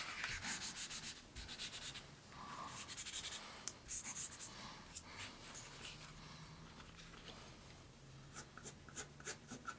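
An eraser rubbing back and forth on paper while shading a portrait drawing, producing soft, faint scratchy strokes in irregular bursts, close and quiet, with no talking.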